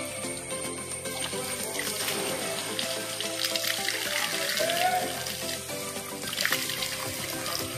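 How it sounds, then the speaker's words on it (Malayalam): Water runs and splashes steadily as it is poured into the silencer of a Honda Activa scooter, a close, continuous trickling and gurgling stream with no talking. "നമ്മൾ വെള്ളം ഒഴിച്ചിട്ട് വെള്ളം ഇപ്പുറത്ത് എത്തുന്നില്ല"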